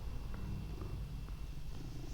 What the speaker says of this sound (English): she's actually purring closer to the microphone